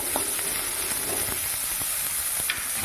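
Onions frying in about two spoons of oil in a pan, a steady close sizzle with occasional soft knocks and scrapes from stirring.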